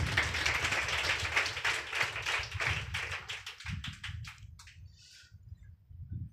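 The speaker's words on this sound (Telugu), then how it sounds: "గట్టిగా చప్పట్లు కొట్టాలి." A church congregation at a Good Friday service clapping loudly together, a dense, fast patter of many hands that thins into a few scattered claps near the end.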